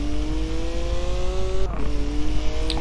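A 2016 BMW M4 GTS drifts in Forza Horizon 4. Its engine holds a loud, steady whine, drops in pitch midway as the tires scrape and squeal, then picks back up, close and with no voices.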